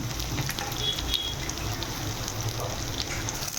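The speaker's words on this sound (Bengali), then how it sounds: "এখন পেঁয়াজটা আমি অল্প ভাজবো" Onions and green chillies frying in hot oil in a pan, a steady dense sizzle holding evenly throughout, close by with no talk.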